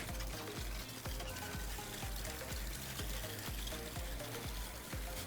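Water pouring and splashing over hair during a second shampoo rinse, a steady close, continuous wash with rhythmic low thumps running through it and no talking.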